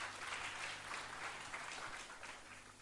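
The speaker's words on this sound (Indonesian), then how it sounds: "tepuk tangan buat Tuhan Yesus." A church congregation at a fasting prayer service claps together in a steady, fairly faint wash of applause that carries on evenly, with a low hum underneath and no clear talking.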